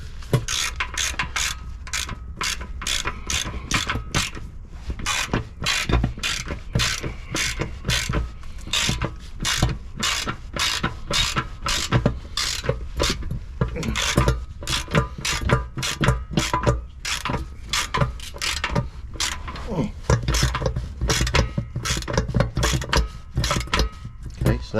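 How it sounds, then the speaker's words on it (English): Socket wrench ratcheting oil pan bolts on a Nissan Quest, rapid repeated clicking in quick bursts and pauses, close and crisp throughout, with occasional speech in the background. "Got it started, so now we'll go to the socket."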